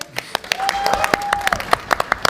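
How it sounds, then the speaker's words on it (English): An audience at a Stargate fan convention panel at San Diego Comic-Con claps, sharp close hand claps sounding in a loose burst that goes on for a couple of seconds. "Can we get a clap for Stephen, please?"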